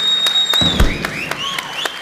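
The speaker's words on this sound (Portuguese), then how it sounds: "Uma salva de palmas para ele." Applause for an interview guest on the talk show Marçal Talk's. Sharp, separate claps land at a fairly regular pace for about two seconds.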